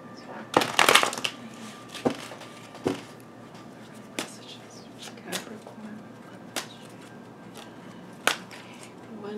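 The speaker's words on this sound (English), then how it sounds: "shuffle these cards, one sec." Tarot cards are shuffled in a quiet room, a flurry of riffling at the start followed by a series of separate soft slaps and taps spaced a second or so apart.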